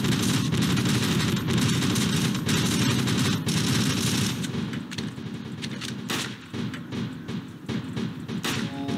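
Rapid video game gunfire crackles in dense, overlapping bursts, heaviest in the first half, then thinning into scattered individual shots with small gaps toward the end.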